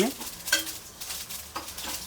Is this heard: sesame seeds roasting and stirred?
yes